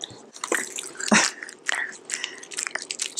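Someone chews frozen peas up close in a run of crisp, crunchy bites with wet squishing between them, irregular and clearly heard with no talking.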